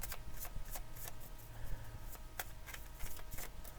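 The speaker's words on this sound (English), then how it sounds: "So we're going to pull some tarot cards, mini tarot." Mini tarot cards are shuffled close by in quick riffling flicks, a run of soft papery snaps repeating in an uneven rhythm at low volume.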